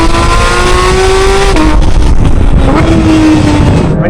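Porsche GT3 engine revving hard and close, a loud high-pitched racing wail that climbs, shifts and climbs again through gear changes, with no talk over it.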